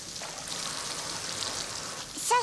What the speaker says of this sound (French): Ça y est, je sais, c'est une cascade.